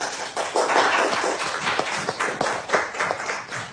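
A small group claps in a school classroom, with uneven, fairly close individual claps and taps that come in a loose, irregular rhythm.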